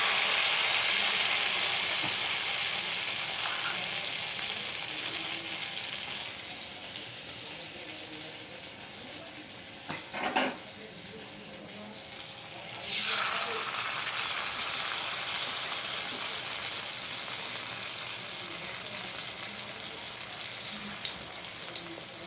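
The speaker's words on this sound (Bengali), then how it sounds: "এবার উচ্ছের পকোড়াগুলো ভেজে নেব" Batter-coated bitter gourd pakoras deep-fry in hot oil with a continuous bubbling sizzle. It is loud at first, eases off, then surges again after a brief clatter, and carries on steadily.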